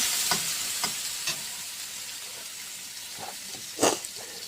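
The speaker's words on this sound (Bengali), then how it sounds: "টমেটো কাটা ছিল সেগুলো দিয়ে দিলাম। সেগুলো ভালো করে একটু নাড়াচাড়া করে" Chopped tomatoes sizzle in a frying pan under a steady hiss, broken by several spatula scrapes and stirs, one louder clatter near the end.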